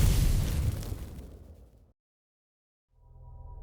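An explosion in the video game Outer Wilds: Echoes of the Eye roars loud and close, a broad rumbling blast that fades into silence before a low hum returns.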